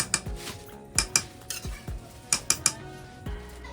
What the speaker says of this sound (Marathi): गरम पाणी मी इथे दोन मोठे ग्लास टाकलेला आहे आणि चांगल्या प्रकारे हे मिक्स करायचं आहे